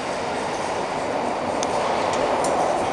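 SPT electric train 334015 departing Glasgow Queen Street Low Level station, a steady rumbling roll with faint wheel clicks, gradually building, no voices.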